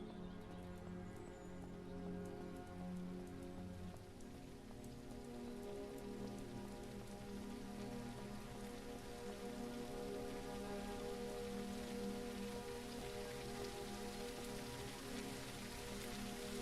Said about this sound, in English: Wow, this rain is so loud.